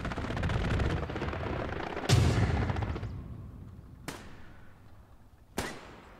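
A German tank firing inside a church in Hell Let Loose: a heavy roar of close gunfire and rumble, cut off by a big blast, then two more sharp booming shots spaced apart with fading echoes.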